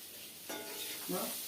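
Baby potatoes tossed with spice powder in a pan, a soft low sizzle with two brief scraping stirs, fairly faint and close.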